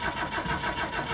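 An old car engine that hasn't run in a long time turns over and starts on a reconditioned battery: a brief, loud, pulsing churn of the starter and engine, heard up close with no talking.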